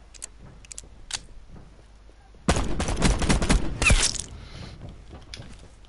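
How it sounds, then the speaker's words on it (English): Call of Duty Blackout gunfire: a few sparse shots early, then a loud sustained burst of rapid automatic fire from a player shooting off a crane, tapering into scattered clatter. "Someone's on the other crane shooting at me."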